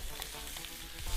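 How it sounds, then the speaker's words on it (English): Spam sizzles and spits in melted butter in a hot pan, a brief, dense, close-up frying hiss with no voices. "I'm going to start off with a little bit of butter and get the spam right into it."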